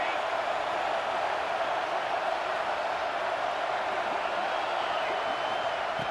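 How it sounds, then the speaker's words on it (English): Stadium crowd noise from the College Football 26 video game, a dense, steady roar of a packed home crowd filling the whole stretch at an even level with no breaks. "wow, listen to this crowd noise. This stadium is vibrating."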